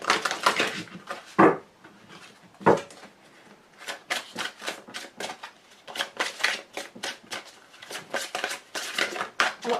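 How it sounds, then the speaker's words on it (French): A deck of angel oracle cards being shuffled by hand, a run of quick riffling bursts and soft card slaps in an irregular rhythm, close and fairly loud. "Un très joli jeu de cartes. Très facile à mélanger"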